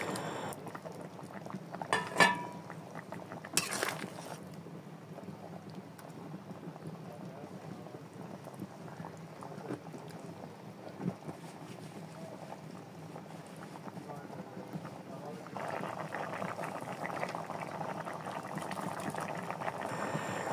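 Water comes to a boil in a pan for a thin Bengali fish and potato curry, with a soft, continuous bubbling that grows louder toward the end and a couple of brief knocks early on.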